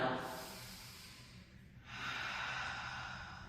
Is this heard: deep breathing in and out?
yes